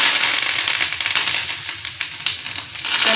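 Crushed garlic and curry leaves crackle and sizzle in hot oil in a tempering pan, a dense, loud spitting hiss with rapid pops throughout and no talking.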